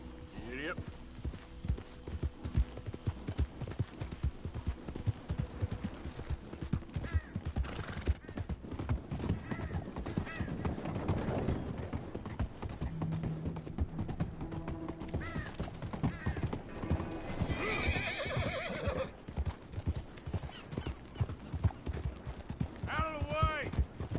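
A horse gallops in Red Dead Redemption 2 with rapid, rhythmic hoofbeats throughout, a whinny partway through, and intermittent talking over the top.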